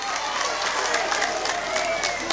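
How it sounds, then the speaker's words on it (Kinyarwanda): An audience at a gospel concert in Musanze claps together in a steady, dense patter that holds evenly for a couple of seconds, with crowd murmur blended in. "mwongere mukomere n'amashyi"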